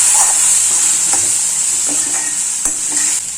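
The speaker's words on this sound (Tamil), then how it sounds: "இந்த மிளகா ஸ்மெல் போகிறதுக்கு கொஞ்சம் நேரம் பரட்டி விடலாம்." Chillies stir-fried in a pan for a chilli, garlic and curry leaf kuzhambu, a steady close sizzle with a few soft scraping stirs of a utensil against the pan, no voices.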